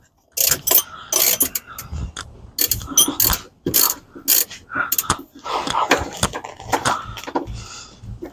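A ratchet wrench turns on a bolt of a vehicle's shift linkage, giving close, loud runs of rapid metallic clicking in repeated bursts with short pauses between strokes.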